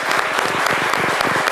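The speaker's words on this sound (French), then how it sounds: "Je vais vous demander de l'applaudir" A studio audience claps for a singer in dense, continuous applause that stays loud and even throughout the short stretch.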